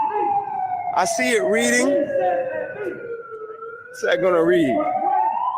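A police siren measured with a sound level meter, wailing loud and close in long rising and falling sweeps throughout, while people talk over it.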